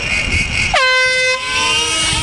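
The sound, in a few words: air horn starting a race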